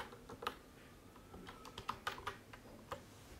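Typing a web address on a computer keyboard: a short run of irregular, light key clicks, close and quiet, with no talking.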